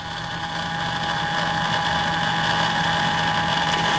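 A 1.2 RPM motor turning a shaft that simulates a solar parabolic trough, heard as a steady, even motor hum with faint mechanical whine, constant and close throughout with no speech.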